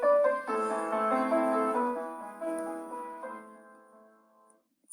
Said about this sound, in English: A common example of tonal music would be Beethoven's Für Elise,